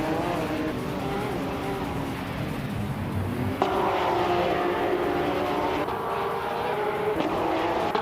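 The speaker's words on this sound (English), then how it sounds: "He's cruising in a classic 2010 Porsche 911 997 GT Pre-Cup." Engine of a 2010 Porsche 911 997 GT Pre-Cup racing in a video game, a steady loud drone with shifting tone and gear changes near 3.7 and 7 seconds, continuous throughout.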